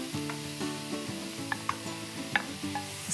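Onions, garlic and potatoes hit a hot pan and sizzle steadily, with soft stirring clicks and the scrape of a utensil over a constant frying hiss.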